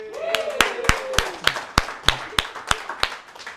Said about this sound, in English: By the way, a round of applause to George for the venue.